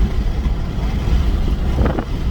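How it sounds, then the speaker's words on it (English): Steady low rumble of wind buffeting a microphone, constant and fairly loud throughout. "Wow, it's really windy"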